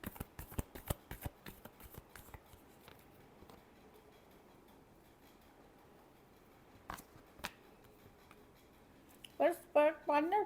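A deck of tarot cards is shuffled by hand in a rapid run of crisp riffling snaps, then quieter handling with a couple of isolated clicks, ending with soft speech.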